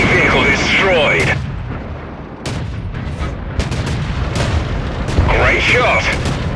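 FV304 self-propelled artillery fires in a tank combat video game, heavy booming shots with rumbling tails, loud and close, while a synthetic game voice calls out in between.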